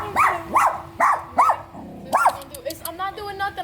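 A dog barks five times in a steady, evenly spaced series, close and fairly loud, followed by a few softer yips and whimpering sounds near the end.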